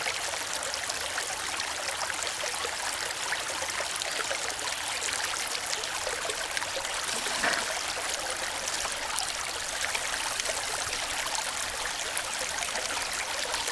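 Creek water runs steadily through a gold panning sluice, giving an even, continuous rushing trickle. It is close and fairly soft, with no voices.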